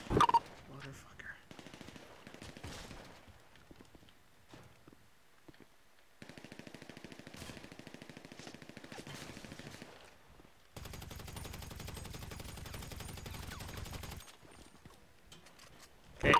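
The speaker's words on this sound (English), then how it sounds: "Okay, shots fired, one down." Gunfire from a police roleplay video game set in Ontario, Canada, responding to a mass shooting: dense bursts of rapid shots come in long stretches, some loud and close, others fainter, with sparse radio-style talk between them.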